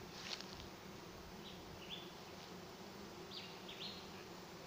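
Honey bees swarming into a swarm trap make a faint, continuous buzz with a few brief louder passes of individual bees close by.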